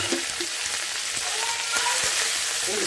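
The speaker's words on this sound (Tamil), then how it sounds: "கொஞ்சம் கருவேப்பிலை கொத்தமல்லி எண்ணெய் போட்டு அடைச்சி குழம்புல போட்டுறேன்" Curry leaves and coriander tempered in hot oil for a bottle gourd mutton kulambu, a loud, close, continuous sizzle and crackle of frying with scattered pops.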